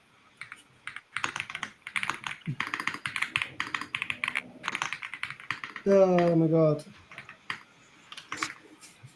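Rapid typing on a computer keyboard with clustered key clicks and pauses, with a person talking briefly partway through.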